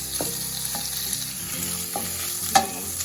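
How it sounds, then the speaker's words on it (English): Smoked sausage sizzles and fries in a pan over medium heat, a steady crackling hiss broken by occasional scrapes and stirs, close and without talk. "we'll go ahead and add our smoked sausage. And we'll let that start browning"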